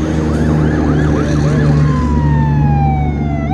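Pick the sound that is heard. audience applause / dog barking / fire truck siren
fire truck siren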